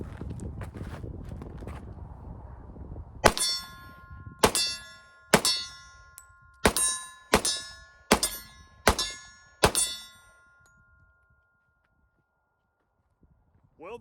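A 1911 pistol at an outdoor range sends rounds into steel targets, eight sharp ringing clangs spaced roughly a second apart, each leaving a metallic hum, after a stretch of muffled rumbling and before a quiet tail.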